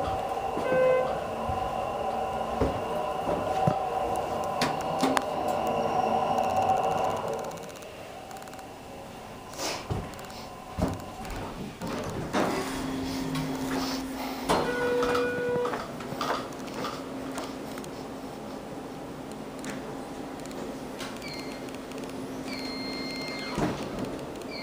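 A 2007 Schindler HT 330A hydraulic elevator at a Comfort Suites hotel in Clayton, NC runs with a low steady hum broken by clunks and door thuds, heard close in a quiet cab.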